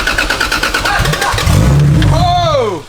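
A car engine, reportedly a VVTi motor, cranks and then catches and revs loudly, its deep rumble building over about a second and a half while people talk nearby.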